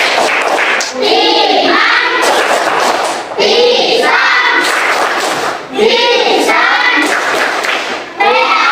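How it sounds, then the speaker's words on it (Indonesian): Children in a classroom perform the PAI rhythmic clapping chant, chanting loudly in unison with claps in repeating phrases that pause briefly between sections. "kita bersama-sama tepuk PAI. Ya, 1, 2, 3, tepuk PAI"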